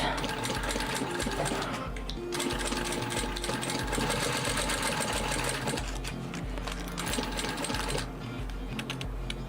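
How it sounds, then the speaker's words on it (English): Sewing machine stitching around the exterior and lining of a fabric water bottle bag, a loud continuous mechanical whirring with rapid needle chatter and brief pauses in speed. "we are going to sew around"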